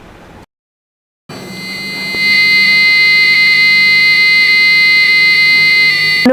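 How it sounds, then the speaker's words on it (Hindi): A passive buzzer wired to a Raspberry Pi for a robotics project sounds a loud, steady electronic tone that starts abruptly after a brief silence and holds continuously, with faint flutter in its pitch. "आपके हाथ में पैसिव बजर है"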